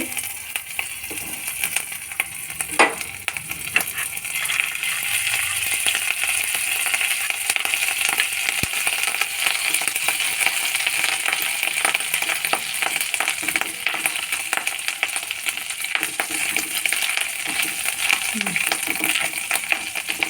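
Ginger fried in hot ghee for doi polao, a steady close sizzle that runs for about twenty seconds and is broken by a few soft stirring scrapes and clinks, with no talking.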